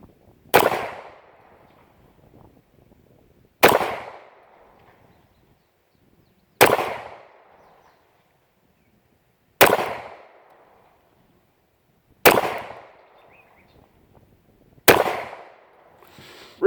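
Six sharp pistol shots from a Taurus PT 745 Pro fired at a target, evenly spaced about three seconds apart, each a loud close crack followed by a short decaying echo, with no talk between shots.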